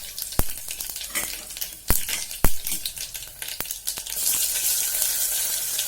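Dried red chillies with mustard seeds and cumin sizzle and crackle steadily in hot oil for tomato dal, with sharp pops and spatters breaking through a continuous frying hiss.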